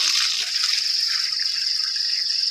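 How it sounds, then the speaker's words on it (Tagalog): Steady hiss of water rushing from a hose as the flow builds, constant and close with no other sounds. "At hinihintay ko na lumakas yung tubig muna."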